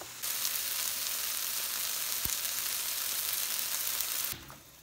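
Rice and saffron toast in a hot paella pan, a continuous loud sizzle and crackle that holds steady and then cuts off abruptly near the end.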